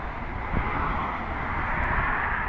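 Steady broadband roar of jet airliners taxiing and flying at Harry Reid International Airport, a continuous loud rumble with no distinct events, alone without talk.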